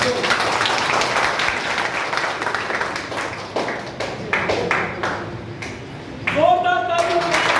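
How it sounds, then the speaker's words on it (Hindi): Audience clapping fills a classroom-style gathering at the start of a new exam-prep batch, a dense patter of applause that thins out and fades before a voice begins speaking. "जोरदार तालियों।"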